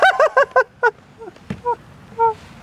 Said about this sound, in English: did you hear what that bird said to me?